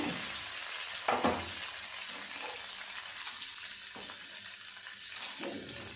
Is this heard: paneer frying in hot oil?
yes